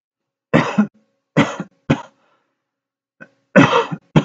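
A person coughs in several separate bursts, two or three quick hacks at a time with pauses between, close to the microphone in an otherwise quiet room.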